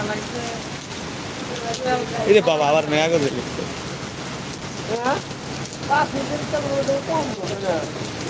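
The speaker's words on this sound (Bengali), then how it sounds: "কি পরিমাণ বৃষ্টি তো হইতেছে" Heavy rain pours steadily throughout, a dense continuous hiss under someone talking casually in Bengali for most of the stretch.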